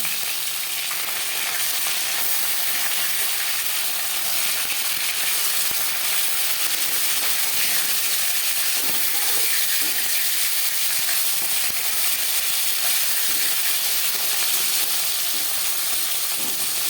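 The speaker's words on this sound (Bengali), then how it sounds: "মাছ আমি হালকা করে ভেজে নেব" Fish sizzling as it fries in a pan for a summer fish curry, a dense continuous hiss and crackle that holds steady and close throughout, with no voices.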